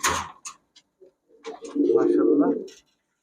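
Pakistani highflyer Giribaz pigeons coo nearby, a few short clicks and bursts leading into one long, throaty rolling coo in the middle before it fades out.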